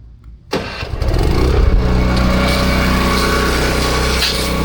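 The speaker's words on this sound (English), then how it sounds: "That will crank the machine up now." Pressure washer engine cranking and catching after a quiet moment, then settling into a loud, steady running drone close by, with no talk over it.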